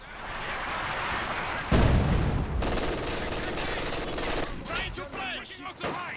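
Light artillery barrage in a WWII strategy video game, a dense rolling clatter of distant gunfire and low booms with a heavier burst partway through, continuous and fairly faint, no talk.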